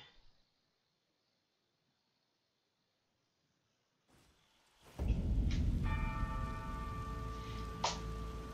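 Rain falls in the video game Elden Ring, a dense, steady hiss that sets in abruptly after several seconds of near silence, joined by bell-like ringing tones partway through, with no thunder clearly standing out.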